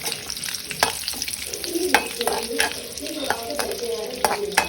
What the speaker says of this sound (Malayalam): മുന്തിരിയും വറുത്തെടുക്കാം കേട്ടോ